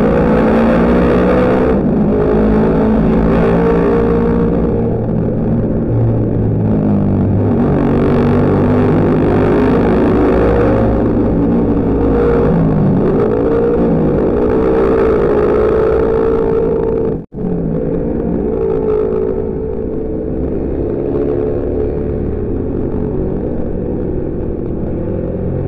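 Two-cylinder 250cc motorcycle engines rumble loudly and continuously for the whole stretch, rising and falling as several pass close by, with a brief dropout partway through.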